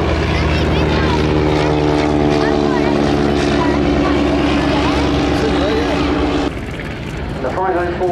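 Avro 504 and B.E.2 First World War biplanes fly at the RAF Cosford airshow, their propeller engines giving a steady, droning hum that holds loud before easing slightly near the end, while a commentator talks over it.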